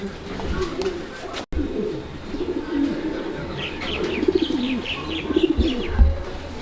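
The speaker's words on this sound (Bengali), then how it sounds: "লাল রঙের গোপালগঞ্জের বড় পায়রা" Large red Gopalganj pigeons coo in deep, rolling bursts close by, with a few higher chirps and a brief rustle, while someone talks over them.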